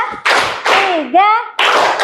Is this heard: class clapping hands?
yes